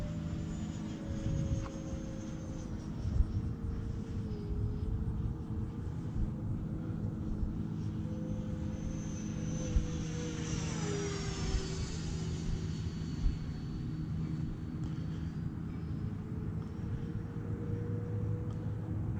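An E-Flite Viper 70mm electric ducted-fan RC jet flying overhead, a steady whining fan hiss and rumble that swells slightly as it passes, continuous and fairly distant, with no talking.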